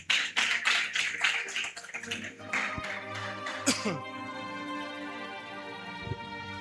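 A church congregation applauding during a service, a burst of rhythmic clapping that fades after a few seconds into sustained music and a speaking voice.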